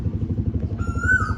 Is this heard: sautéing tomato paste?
no